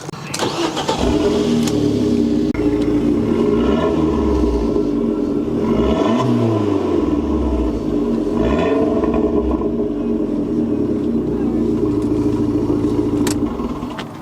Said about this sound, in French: malgré un tout petit moteur, elle fait un super bruit